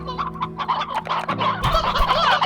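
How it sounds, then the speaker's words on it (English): Hens and a rooster clucking in Slime Rancher, a dense overlapping chorus of close, busy clucks and squawks, with a louder, deeper call toward the end. "We've got elder hens, another elder hen."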